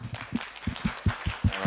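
Scattered clapping from a small audience at the close of a university lecture on psychiatry, individual claps sounding distinctly in an irregular, fairly sparse rhythm rather than a full roar.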